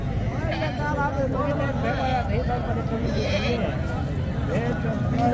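Goats at a busy goat market bleat repeatedly, mostly nanny goats with kids, their wavering cries layered over crowd noise and people talking close by.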